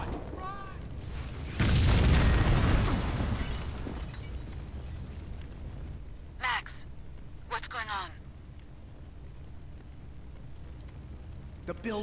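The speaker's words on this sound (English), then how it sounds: "Building's blowing up." A building blows up in the video game Max Payne 2, with a loud, sustained explosive roar lasting a couple of seconds and a dying rumble behind it, followed by scattered faint bursts and voices talking.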